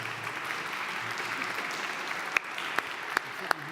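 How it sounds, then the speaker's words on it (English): An audience at a conference opening plenary session applauds, a broad steady wash of clapping heard from across a large hall, with a few sharper, louder claps standing out near the end. "Please come with your applause in the afternoon"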